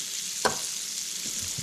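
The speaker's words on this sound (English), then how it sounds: "So we got some turkey sausage going." Turkey sausage fries in a pan with a steady, close sizzle, broken by a brief scrape of stirring, with no talk over it.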